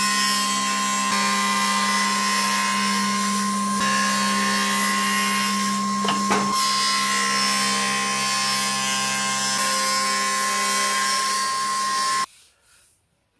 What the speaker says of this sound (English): let's pop over to the table saw, we'll cut it down to final size,